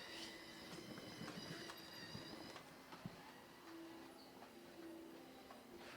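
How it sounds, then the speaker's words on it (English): A train rolls along a track directly overhead, heard from underneath as a steady, fairly faint rumble with intermittent thin wheel squeals and clicks running through the whole stretch. "We're under a train track"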